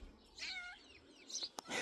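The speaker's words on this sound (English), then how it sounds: "sounds like there's a kitty coming to say hello" A cat nearby outdoors on a rural property gives a couple of short, fairly faint meows with a few brief clicks and background noise, and no talking.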